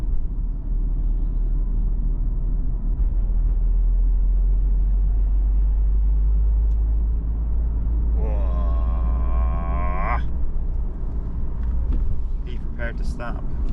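A Nissan 370Z on a road near the beach, merging into traffic and braking: steady loud low engine and road rumble throughout, with a person talking over it.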